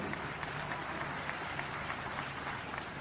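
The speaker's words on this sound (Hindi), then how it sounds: "उनके लिए तालियां" Crowd at a political rally applauding in a dense, continuous wash of clapping heard from a distance, steady for the whole stretch.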